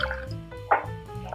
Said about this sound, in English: I'm going to put in some sugar, some water,